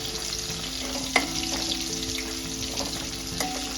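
Okra fries in a pan toward a reddish colour for bhendi bhaji, with a constant close crackling sizzle and a couple of light clinks from stirring.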